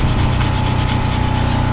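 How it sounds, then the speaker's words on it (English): Someone scrubs a front brake caliper on a 2015 Mitsubishi Mirage G4. The rubbing is loud, close and continuous, with a steady back-and-forth rasp and a low hum underneath. "I'm gonna clean off this caliper a little bit more."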